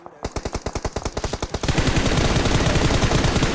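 Automatic gunfire in the mobile battle royale game PUBG Mobile: a rapid burst of distinct shots, then a denser, louder continuous stream of fire, close and sharp, with no talking over it.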